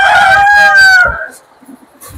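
Rooster crowing on a poultry farm, one long loud call that rises and trails off over about a second, followed by quieter clucking and low farmyard noise.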